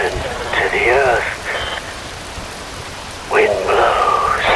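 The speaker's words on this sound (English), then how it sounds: "Wind blows, rain falls." Steady rain hisses throughout a scene in the video game Metal Gear Rising: Revengeance, with a voice speaking over it in two phrases.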